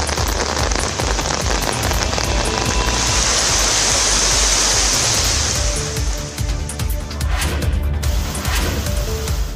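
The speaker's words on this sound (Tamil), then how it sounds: "இதேபோல புதுக்கோட்டை மாவட்டம் ஆலங்குடி, பொன்னமராவதி உள்ளிட்ட பல இடங்களில் பரவலாக மழை பெய்தது." Heavy monsoon rain pours steadily in Erode, Tamil Nadu, a dense, loud and continuous hiss of water striking surfaces and running down the road, with no voices over it.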